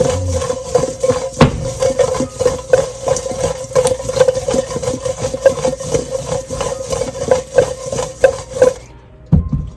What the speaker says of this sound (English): Now we're just going to mix it up, let it get good and coated.